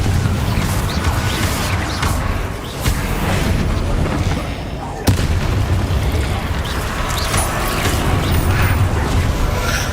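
Continuous Bombarda spell explosions and magical combat in the Hogwarts Legacy video game, loud booming blasts and crashing debris layered over a thick roaring din, with one sharp crack midway.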